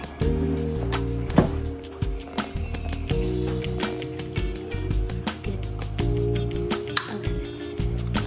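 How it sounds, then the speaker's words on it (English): A whisk beats egg and egg yolk in a bowl for hot chocolate cookies, producing rapid, rhythmic metallic clinks and rattles against the bowl, close and fairly loud for several seconds. "And now we're mixing the egg and the egg yolk"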